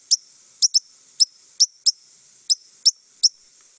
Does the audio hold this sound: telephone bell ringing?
no